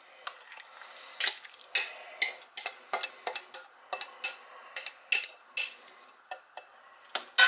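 A spoon clinks and scrapes repeatedly against a bowl as beans and sauce are stirred into stuffing for green peppers, quick irregular knocks and scrapes, close and clear with no talking.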